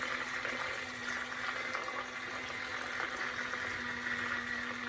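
Water poured out of a portable washing machine, a steady continuous splashing flow with a low motor hum beneath, no voices.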